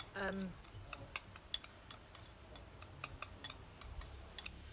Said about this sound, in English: So I just stir that in